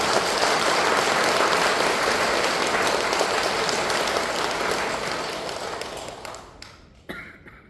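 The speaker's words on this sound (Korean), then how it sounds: "진짜 격려의 박수 한번 드릴까요?" Audience applause at a Sunday church homily fills the room, dense and steady clapping that gradually thins and fades out near the end.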